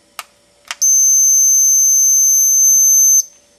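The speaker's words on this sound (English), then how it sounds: "We should get a beep." A dog training collar remote gives a single long, high-pitched electronic beep lasting over two seconds, preceded by two faint clicks, close and clear against near silence.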